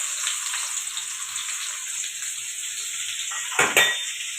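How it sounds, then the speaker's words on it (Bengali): Chopped onions dropped into hot oil in a pan while cooking meat, giving a steady close hiss of frying with a brief clatter of utensil against the pan near the end. "তারপরে আমি পেঁয়াজ, ওই তেলেই পেঁয়াজ কুচি দিয়ে দিলাম।"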